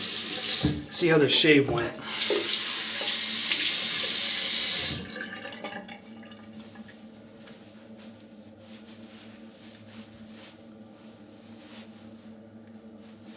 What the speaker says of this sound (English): let's have a rinse